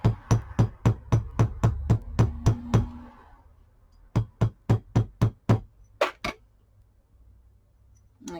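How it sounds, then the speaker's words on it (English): A paper bead made from recycled Christmas card is struck repeatedly with a hammer to flatten it: a fast run of about ten sharp, close knocks, a pause, then another burst of seven or so blows tapering to a few lighter taps. "what I'm going to do is to hammer it to flatten it some. So I'm going to hit it with a bit of a force."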